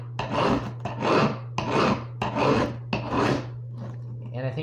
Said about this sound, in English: Filing against the blade will get you a better edge,